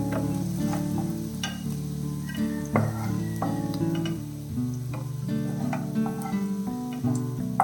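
Paneer fries in a pan for paneer pulao under a steady sizzle, with occasional clinks and scrapes as pieces are turned, while a tonal background runs throughout.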